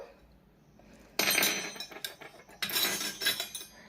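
Tiny serving plates and spoons from a miniature toy kitchen set clinking against each other in two short bursts of light, bright metallic and ceramic chinks, close up with no talking.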